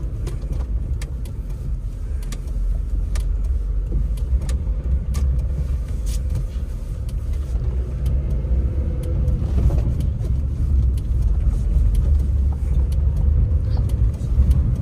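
A 2004 Maruti Suzuki Zen hatchback with a 1000cc engine drives along, its low engine hum and road rumble steady and close throughout, with no talk over it.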